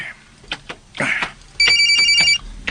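A telephone bell rings in one bright, trilling burst of less than a second among scattered knocks and rustles in a room.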